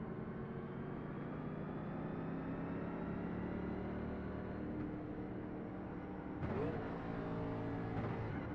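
Race car engine in a racing video game, held at a steady high drone with layered harmonics for several seconds before a sharp shift and renewed revving near the end of a second-gear launch.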